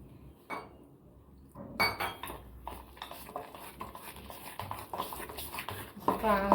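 Jalebi batter mixed in a bowl, with a spoon clinking and scraping against the sides in quick repeated strokes; a voice talks over the mixing.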